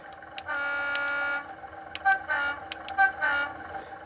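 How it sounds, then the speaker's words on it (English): A DCC-equipped model British diesel locomotive sounds its dual high-low horn: one sustained tone followed by several shorter toots of alternating pitch, clear and fairly close over a faint engine hum. "On British diesels, they typically have a dual horn capability. So a high-low capability."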